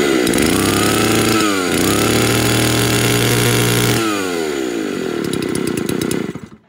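Small two-stroke brush cutter engine running loud and close, a buzzing whine that rises and falls as the throttle changes, then winds down and cuts off near the end.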